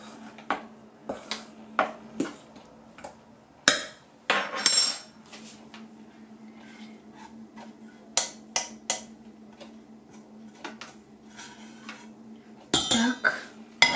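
Gingerbread dough ingredients with a teaspoon of baking soda being stirred in a bowl, irregular clinks and taps of a spoon against the dish over a faint steady hum, close, with brief sounds from people nearby.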